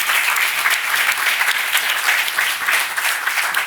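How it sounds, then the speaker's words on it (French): A conference audience claps warmly for a speaker, a dense, steady wash of applause that holds evenly throughout without any voices. "On peut vous applaudir déjà, chaleureusement."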